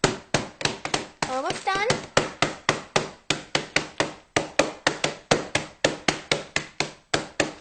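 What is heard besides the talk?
whacking Oreo cookies to crush them into crumbs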